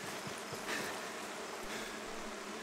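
Bees buzz around a beehive in a video game, a faint, steady, close hum with a few brief swells and no talking.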